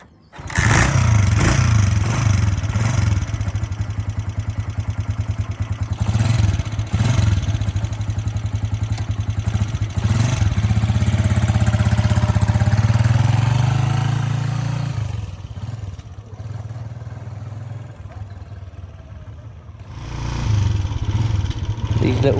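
A Honda CG125 classic motorcycle ridden around a yard, its small single-cylinder engine puttering steadily and loud near the microphone, swelling and easing as it passes, with a voice speaking over parts of it.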